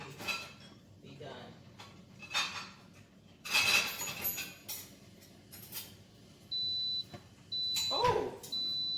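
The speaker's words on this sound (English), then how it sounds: "Guys, we got an alarm on the coffee when it's done." A Mr. Coffee coffee maker sounds its brew-done alarm, three short, high, evenly spaced beeps after light kitchen clatter, with a voice speaking nearby.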